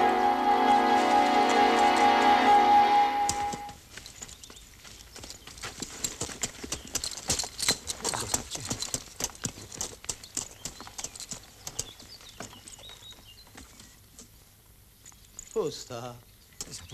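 Horse hooves clop steadily on hard ground beside a carriage, fairly close, following a brief steady tone at the start; a few faint voices break in near the end.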